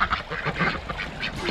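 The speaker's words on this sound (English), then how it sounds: "You're such a skittish duck, aren't you?" A jumbo Pekin duck quacks in rapid, close, raspy bursts that run continuously for a second and a half.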